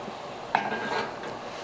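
A pan of Jägermeister BBQ sauce reducing on the heat is swirled, giving a brief metallic clink of the pan followed by soft sloshing and a light simmer, close and fairly quiet.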